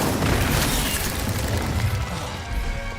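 Incendio fire spell cast in Hogwarts Legacy, a dense, loud whooshing burst of flame with booming, crackling texture that fills the moment and tapers slightly toward the end, no talking.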